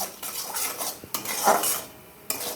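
Cardamom, cloves, bay leaf, ginger-cumin paste, salt and turmeric are stirred together in a cooking pot, a close metallic scrape and clink of a spoon against the pot with a faint sizzle underneath, no voices.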